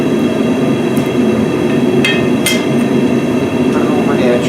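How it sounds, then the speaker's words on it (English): Hammer blows on forging tongs set over an edge, several sharp metallic strikes ringing out over a steady loud rumbling background hum, spaced irregularly with a pair close together near the middle. "And I strike right here like this to push my material out."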